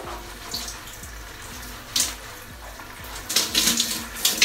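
Lukewarm water runs steadily over a head of hair during washing, a close, continuous splashing hiss with brief louder surges as hands move through it, no voices.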